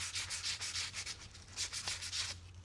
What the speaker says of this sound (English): So I'm just going to put a little bit of sandpaper on that.